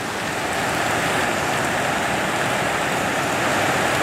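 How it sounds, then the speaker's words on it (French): Steady outdoor rain hisses densely and evenly throughout, a continuous broadband wash of falling water with no pauses and no voices. "comme tu vois, il pleut un peu."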